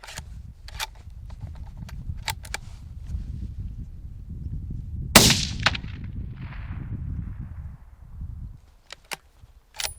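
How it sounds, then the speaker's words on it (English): A single sharp, loud hunting rifle shot cracks mid-clip during field shooting practice, ringing out before fading, with soft rustling and scattered clicks of handling before and after. "I'm going to shoot the very point of that apex."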